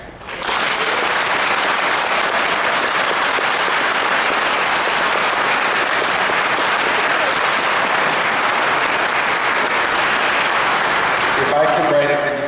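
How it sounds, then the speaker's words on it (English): Audience at a convention closing ceremony clapping without cheering, a dense loud sustained applause that holds steady for about eleven seconds before cutting off, with a voice emerging at the end. "no cheering, okay? Just clap."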